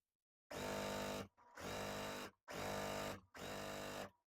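Sewing machine stitching quilt block pieces (piece D squares) for a Farmers Star block, running in four steady bursts of a second or so each with brief pauses between, close and loud, no talking.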